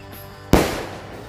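A single assorted ball firecracker explodes at a festive celebration: a sharp, loud bang with a short ringing decay, heard alone after a brief quiet lead-in.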